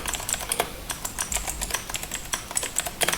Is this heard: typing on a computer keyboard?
yes